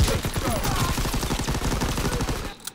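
Sustained automatic gunfire in Call of Duty WWII Domination on the Ardennes Forest map, a fast, even rattle of close shots running for over two seconds before cutting off abruptly.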